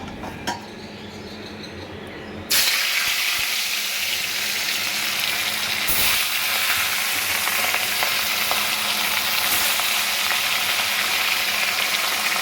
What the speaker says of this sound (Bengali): তেল গরম হয়ে গেছে, এবার একে একে আমি মাছগুলো ভেজে নেব।